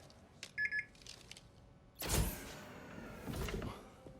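A security badge swipe on a reader in Marvel's Spider-Man 2 gives two short electronic beeps, then a door slides open with a loud whooshing mechanical rush and a lingering hum.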